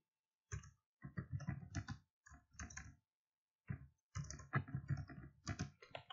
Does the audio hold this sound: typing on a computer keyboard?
yes